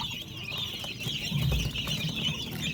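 A flock of chicks cheeps steadily at close range while feeding on wheat in a coop, with occasional clucks and faint rustling movement.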